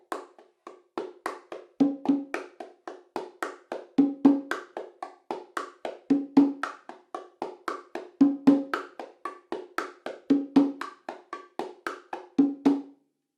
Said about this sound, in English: So it will sound like this. This is example 6.